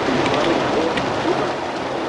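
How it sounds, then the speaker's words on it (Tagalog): Heavy rain pours steadily over a Quezon City street before dawn, a dense, continuous hiss of water with no breaks and no voices. "Ganito kalakas ang buhos ng ulan habang nagro-roving kami sa may Quezon City kanina madaling araw"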